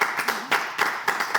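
A studio audience claps in quick rhythmic bursts, about four per second, fairly close and lively, with voices faintly mixed in.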